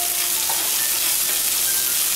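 Chopped beans and green peas, salted, fry in a pan with a loud, close, steady sizzle and light hiss, uninterrupted and without any talking.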